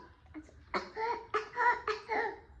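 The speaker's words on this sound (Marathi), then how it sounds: "मला पण कसा येतो खोकला दाखव" A young child gives several short, staged coughs in a row, close and fairly loud, sounding playful and half like laughter.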